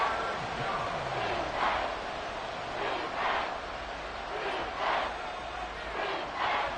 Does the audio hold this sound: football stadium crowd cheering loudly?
yes